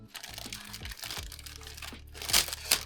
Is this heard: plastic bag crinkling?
yes